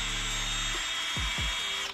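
Higher-speed power polisher spinning rubbing compound on a wheel while restoring a bank-repo vehicle, a steady motor whine that winds down, then two short rising spin-up surges close by.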